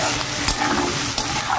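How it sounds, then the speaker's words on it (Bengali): Chopped onions and chilies fry in hot oil in a pan, a dense close sizzle with light stirring scrapes throughout a short stretch and no talking. "পেঁয়াজটা একটু ভাজা হোক।"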